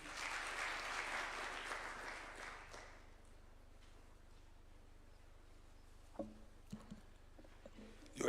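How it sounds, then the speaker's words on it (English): Audience applause at an infrastructure fund bill assent ceremony, a dense wash of clapping that fades out after about three seconds, followed by quiet room tone, a few faint knocks and shuffles, and a speaker beginning at the end. "A clap for him, please."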